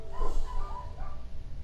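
Dogs yipping and barking softly somewhere in the background, a couple of brief muffled barks over a low steady room hum.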